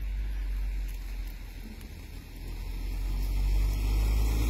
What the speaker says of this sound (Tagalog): Umi-slide yung sasakyan.